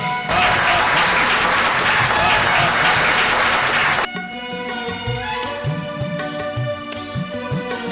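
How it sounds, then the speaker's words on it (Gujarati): Audience applause welcoming guests at a community medical camp event, loud and dense for about four seconds, then dropping off abruptly as music with steady tones continues underneath. "આપણે તાળીઓના ગડગડાટ વડે મહેમાનોના અભિવાદનમાં સાથ આપીએ"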